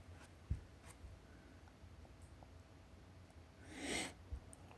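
A hand writes a math formula with a pen or marker, giving faint scratchy strokes with a louder brushing swipe near the end and a few soft taps, quiet and close, with no speech.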